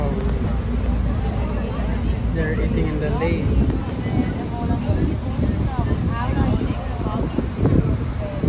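A steady tour boat engine churns over the water of Lake Zurich with wind buffeting, and people talking in the background throughout.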